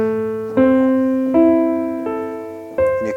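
Piano left hand plays a root, fifth and octave pattern: four sustained bass notes struck one after another at an even, slow pace, each ringing and decaying, solo with no talking.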